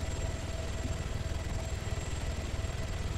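A helicopter in a video game gives a steady, loud rotor and engine drone that stays close and continuous throughout, with no voices.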